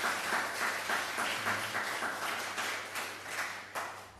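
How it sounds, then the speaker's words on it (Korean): Applause from a church congregation welcoming visitors at a Sunday worship service, a soft, steady patter of clapping in a reverberant hall with no voices. "우리 뜨겁게 박수로 환영했으면 좋겠습니다."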